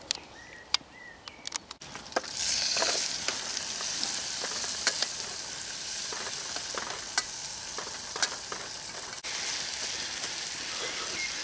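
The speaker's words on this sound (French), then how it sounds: "Et ensuite on fait cuire tout ça dans le vin." Flour, oil and butter sizzle steadily as they cook in wine at a solo bivouac, a loud continuous frying hiss starting after a quiet moment and running throughout, with occasional stirring clicks.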